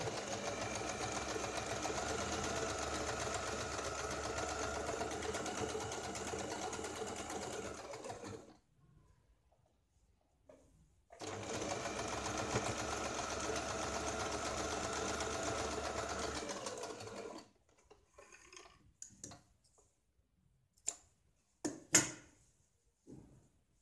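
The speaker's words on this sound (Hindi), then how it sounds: "इसके ऊपर हम डबल सिलाई लगाएंगे" A sewing machine runs a double line of stitching on a 38 inch katori blouse, whirring steadily in two long runs split by a pause, followed by scattered clicks and fabric handling.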